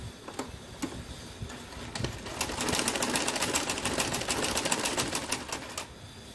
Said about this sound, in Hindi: तो हम इसको सिलाई लगा देंगे।